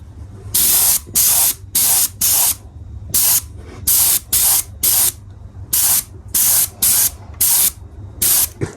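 Repeated bursts of spray paint laid down as the final coat on a Classic Mini during a restoration, about a dozen short hissing passes in an irregular rhythm, loud and close with no talking.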